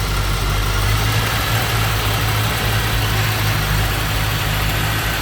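A 1988 Chevrolet Corvette engine idles smoothly with a steady, even low rumble and light vibration, close by and continuous throughout.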